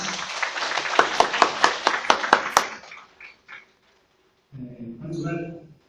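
A crowd at a lecture in a temple hall claps in a burst of rhythmic applause that fades after a few seconds, followed by a short spoken phrase.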